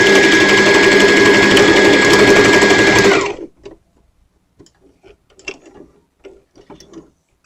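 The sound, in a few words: sewing machine back stitching a skirt dart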